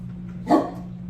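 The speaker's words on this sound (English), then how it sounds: "the guard dog, is active" A house guard dog gives a single short bark, fairly faint, over a steady low electrical hum.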